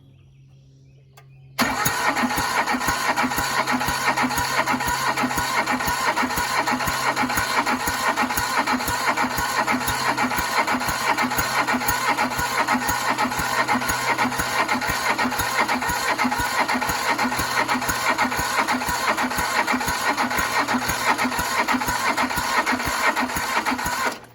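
A Mitsubishi S370 tractor under restoration cranks briefly and then catches and runs, its engine holding a steady, loud mid-pitched idle with a fast, even chugging pulse close by until it stops abruptly at the end.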